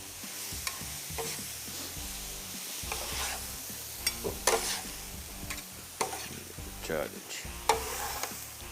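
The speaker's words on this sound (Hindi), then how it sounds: "इसको अब अच्छी तरीके से मिक्स किया" Lentils and minced meat stirred and mixed on a large tawa for a maash daal fry, with scraping strokes and soft sizzling in an uneven rhythm, close and moderately quiet, with no talking.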